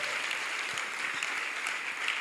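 A church congregation claps for God, broad continuous applause filling the room, with ululation called for but not clearly standing out above the clapping.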